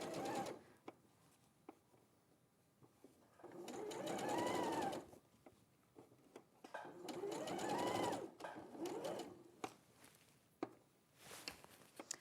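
Sewing machine stitching around the edge of unpinned stretchy fabric, two sustained bursts of fast, close mechanical whirring and chattering separated by pauses with light handling clicks and taps.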